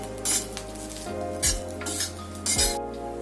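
Fresh coriander being stirred and sautéed in a pan with roasted ingredients for dried bombil curry, a spatula scraping and clinking against the metal in several separate strokes over a soft background sizzle.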